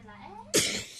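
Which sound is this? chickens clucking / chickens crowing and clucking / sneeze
sneeze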